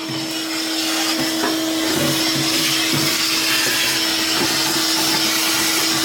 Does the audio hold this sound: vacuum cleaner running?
yes